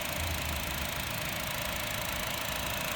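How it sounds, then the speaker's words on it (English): A 2013 Honda Fit Sport with a manual transmission idles close by, its engine holding a steady hum with a faint, rapid valve-train ticking running throughout. "my phone does pick up the valve train noise."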